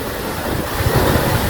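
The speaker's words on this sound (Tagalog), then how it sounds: "Sabi nila ang alon daw dahil sa hangin." Ocean waves and wind at Claveria, Cagayan, a steady broadband rush of surf with wind buffeting the microphone, loud and continuous with no one speaking.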